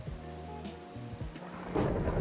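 Thunderstorm in Minecraft, heavy rain hissing steadily with low rumbling thunder rolling underneath and swelling louder toward the end, while game music tones sound faintly in the background.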